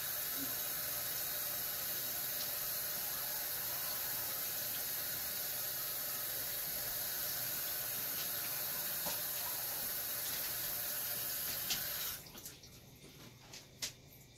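Tap water running steadily into a kitchen sink while vegetable leaves are washed for low-carb meal prep, a constant quiet hissing stream that stops abruptly near the end, leaving faint clinks.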